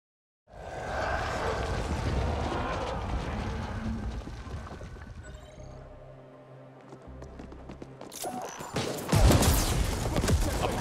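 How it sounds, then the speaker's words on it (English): Grenade blast in a cyberpunk top-down shooter game: a dense, loud burst of rumbling noise that fades into a low crackling tail, followed by another sharp, loud crash near the end. "A more perfect nade doesn't exist."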